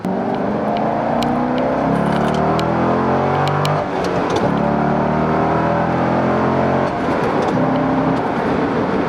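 Steady, deep exhaust drone of a C6 Corvette with a Corsa Sport exhaust cruising on a highway in fifth gear at 60 mph and 2,000 RPM, with constant road and wind noise and a few faint clicks, no voices.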